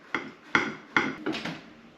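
A metal spatula chops through a cheese-stuffed juicy lucy burger on a Blackstone griddle, four sharp scraping clacks in quick succession against the flat steel surface, close and fairly soft.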